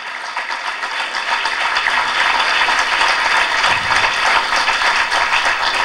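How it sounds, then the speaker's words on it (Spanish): Sustained applause from a crowd at the opening of a continental trade-union assembly, a dense, even roar of clapping that swells slightly and continues without letup. "les invito a aplaudir Cuba revolucionaria, potencia de la solidaridad internacionalista"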